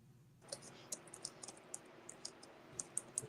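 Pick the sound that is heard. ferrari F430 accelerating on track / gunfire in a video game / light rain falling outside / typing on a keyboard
typing on a keyboard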